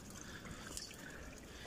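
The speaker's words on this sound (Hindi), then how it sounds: "ये चश्मे का पानी है" Clear spring water trickles steadily from a natural roadside spring in Kashmir's Leepa Valley, a soft, continuous close-up babble with no voices over it.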